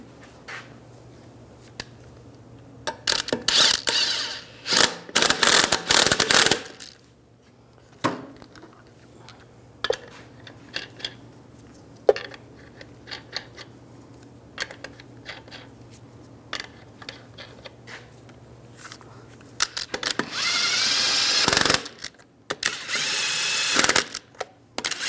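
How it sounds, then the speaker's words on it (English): Wheel lug nuts threaded and tightened by hand on a Ram 1500 rear wheel, with irregular clicks, ratcheting and metallic clatter in scattered bursts, loudest near the start and end, over a low steady hum. "Now install the wheel. Get the lug nuts started."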